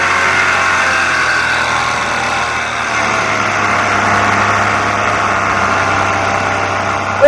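A Black Widow powered paraglider trike engine runs at a steady drone throughout, loud and constant, with no talk over it.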